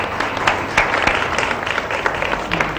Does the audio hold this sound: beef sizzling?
no